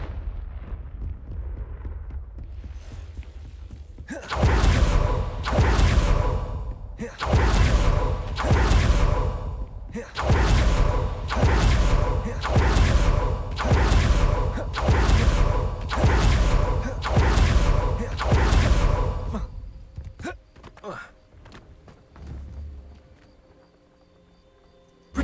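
Repeated Confringo explosion spells in a Harry Potter video game burst out as a series of heavy booming blasts, roughly a dozen in a fairly regular rhythm, loud and close before fading to quiet rumble.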